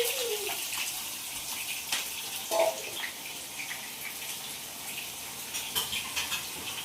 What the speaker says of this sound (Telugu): ఇటు సైడ్ చికెన్ అయితే బాయిల్ అవుతుంది. ఫ్రైడ్ ఆనియన్స్ అయితే ఫ్రై అవుతున్నాయి.